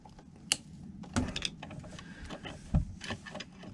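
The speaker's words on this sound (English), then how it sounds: "I'm gonna give it a couple more tightens just to make sure it's getting a strong," Small screws being tightened on an RV circuit breaker, giving a few quiet mechanical clicks and ratcheting ticks with scattered handling taps, close up and with no talking.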